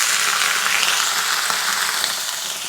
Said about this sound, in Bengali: এবার মশলাগুলো কষিয়ে নেব